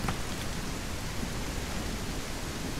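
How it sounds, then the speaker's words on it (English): Heavy rain pours down in a tribal survival video game, a dense, steady hiss that fills the whole stretch with no letup and no voices. "This rain is really coming down hard."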